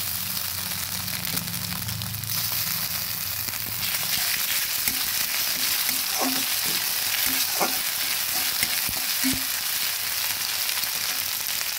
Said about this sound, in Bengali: আদা পেঁয়াজ বাটা সব ভালো করে ভেজে নিচ্ছি